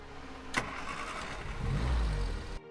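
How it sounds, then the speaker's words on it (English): A car engine starting with a key: a sharp click, then the engine turns over and catches into a rising, rumbling run before cutting off abruptly. "if it didn't have the key sound, I would say that engine turning on is perfect"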